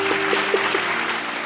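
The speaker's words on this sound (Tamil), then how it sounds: "கைத்தட்டுங்க." A church congregation claps at a Sunday service, a short burst of dense, even applause that stays steady throughout, with a faint voice underneath.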